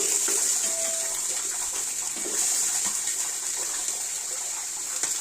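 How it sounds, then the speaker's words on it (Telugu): Onions going into hot oil with whole spices for a home-cooked chicken dum biryani, a steady bright hiss and sizzle that holds loudly throughout with a brief swell midway. "ఇప్పుడు ఉల్లిపాయలు వేసేద్దాం."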